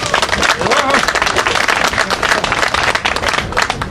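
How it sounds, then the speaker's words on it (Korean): Audience at a public town-hall meeting with a politician gives a loud, sustained round of clapping that fills the whole stretch, dense and close, with some voices mixed in. "명쾌한 답변을 기대하면서 박수를 한번 보내주십시오"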